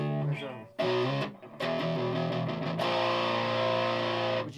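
A Jim Deacon Stratocaster electric guitar, switched into humbucker mode with its tone control turned fully down, plays distorted chords and notes in a dark, muffled tone, with short pauses between strummed phrases.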